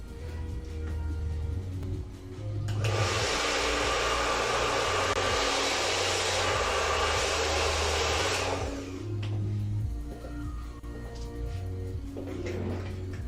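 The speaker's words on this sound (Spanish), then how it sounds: "Un secador de pelo." A hair dryer blows steadily as a tool for cleaning computer hardware during an SSD and RAM upgrade, a loud broadband whoosh running about six seconds between quieter stretches with low hum, no speech.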